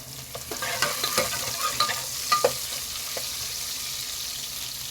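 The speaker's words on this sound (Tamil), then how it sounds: "இப்போ நம்ம வெங்காயத்தை சேர்த்துக்கலாம்." Onions sautéing in a pan for hotel-style sambar give a soft, continuous sizzle punctuated by light stirring clicks and scrapes, close and quiet, with no speech.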